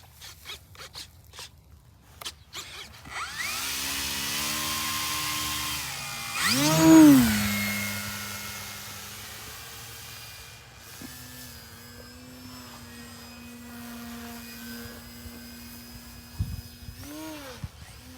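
Timber X radio-controlled plane in flight, its electric motor whining steadily with pitch rising and falling as it passes, one louder close sweep midway, then a fainter sustained drone trailing off near the end.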